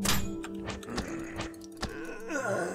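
Furniture being broken up for wood in the video game 10 Miles to Safety: a series of heavy wooden thunks and cracks, several spaced blows in close succession, fairly loud with no talk.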